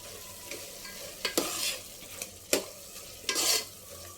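Ginger garlic paste frying in a pan for palak paneer, a soft sizzle broken by several sharp scrapes and clinks of a spoon stirring against the pan.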